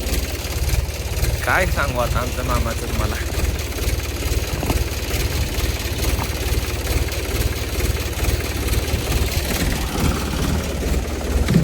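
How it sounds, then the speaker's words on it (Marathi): A farm tractor idles steadily during warm-up, a continuous low rumbling engine drone throughout, with someone talking over it. "ट्रॅक्टर चालू झालेला आहे. आता त्याला वॉर्मअप साठी 2 मिनिट चालू ठेवायचा."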